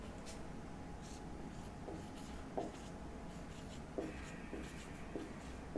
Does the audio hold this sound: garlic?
no